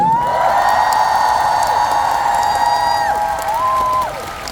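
Concert audience cheering and applauding for a singer's band at his Asia tour show in Seoul, a loud sustained crowd roar with whoops and high sung-out shouts that fades slightly near the end.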